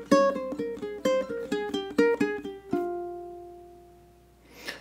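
Ukulele plucking a quick, spooky minor melody in two back-to-back patterns, bright close notes in a steady fast rhythm, ending on a long ringing note that slowly fades.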